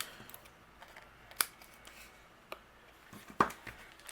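Scissors snip away excess paper on a handmade card, a few sharp isolated cuts spaced apart, close and fairly quiet against a soft room background.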